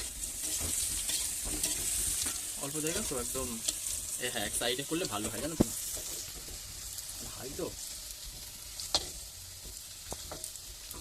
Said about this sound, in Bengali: আলুটা প্রায় ভাজা হয়েই গেছে